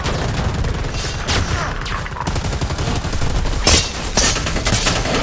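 Gunfire in the video game Predator: Hunting Grounds, with rapid, sustained bursts of shots over a continuous loud battle din and a couple of sharper, heavier reports late on.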